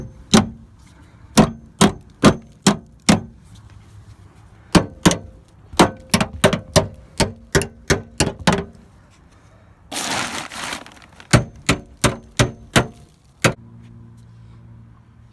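Hammer blows on cut metal of a Jeep Cherokee, sharp close strikes in uneven runs with a short burst of harsh scraping noise midway, then more steady hits.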